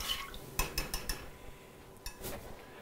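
A utensil stirs cornstarch sauce ingredients in a pot for Hawaiian meatballs, giving a quick series of close metallic scrapes and clinks, a pause, then a few more scraping strokes.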